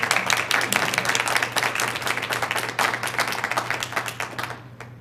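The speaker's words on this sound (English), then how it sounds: "A lot of people are clapping" Meeting audience at a Board of Commissioners session clapping together after a public comment in support of the library, a steady, dense applause that holds for several seconds before thinning out at the end.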